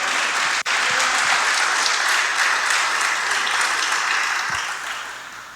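A church congregation claps together for God during a Spanish-language service, steady, dense applause filling the room at an even level for several seconds before gradually tapering off.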